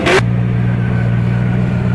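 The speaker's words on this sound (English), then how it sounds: "And with this L Energy Drinks Camaro. This crazy Camaro of 600 horsepower, driven by the Hungarian drifter Pucci." 600 horsepower Camaro drift car at a drift series event, a brief sharp burst at the start followed by a steady, loud, low engine drone holding a constant pitch, close and alone.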